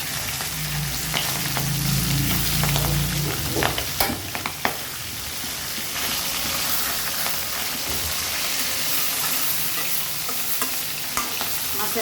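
Fish head frying in hot oil with dried red chili, bay leaf and cumin, a tempering for moong dal. Steady, close sizzle with occasional spatula stirring and scraping, no voices.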